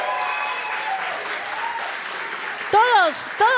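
Applause at a music school's year-end concert for sound engineer Lucas Chaik, a soft continuous patter of clapping that a speaker's voice breaks into near the end.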